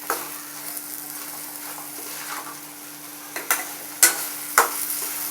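Mushroom masala with chopped coriander is stirred in a pan, a light sizzle under scraping stirs that end in a few sharp metallic knocks of the spoon against the pan, close and clear, no voices.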